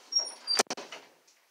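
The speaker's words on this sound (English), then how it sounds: "I'm gonna close the door real quick." An indoor door closed quickly, a couple of sharp close knocks and clicks from the latch and frame, preceded by soft shuffling handling sounds and followed by quiet.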